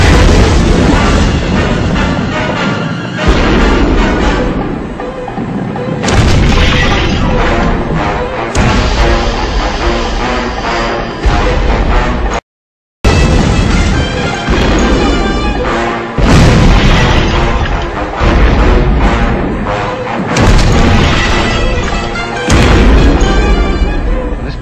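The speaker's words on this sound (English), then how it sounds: "This place is going to go up at any moment." Explosion in a Thomas the Tank Engine Thunderbirds parody: loud, dense rumbling booms and crashes run almost continuously, broken by one brief moment of silence midway.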